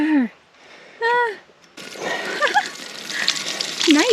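Water gushes and splashes into a mix being worked with a trowel, a steady sloshing pour that builds over a few seconds after brief exclamations from nearby voices.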